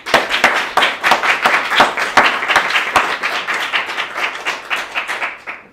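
An audience claps after a school dance performance by Year 9 and 10 students at a winter show, a lively, uneven patter of many hands that stays moderately loud for several seconds.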